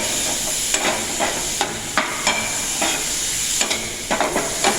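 Green chilies being stirred and mixed with vinegar in a pan for an instant pickle, with repeated wet scraping and tossing strokes in an irregular rhythm over a constant hiss, close and fairly loud, with no talking.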